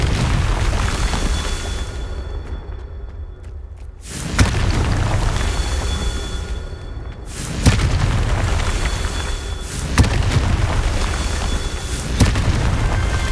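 Within Hogwarts Legacy, the Confringo explosive spell fires as a series of loud, booming blasts about every two to three seconds, each a sharp burst over a rumbling, noisy game soundscape.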